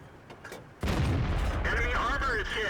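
Tank gun fire in World of Tanks from a Pershing or M46 Patton: a heavy boom strikes after a quieter opening, followed by a rumbling tail while someone speaks over it.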